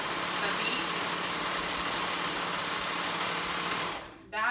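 A sewing machine runs steadily, stitching a dress with a basting stitch at the corner of a V-neck, a continuous close whirring hum that dips briefly near the end before resuming.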